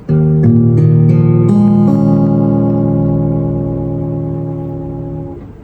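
A single guitar chord strummed once and left to ring, with several strings sounding together and slowly fading over several seconds.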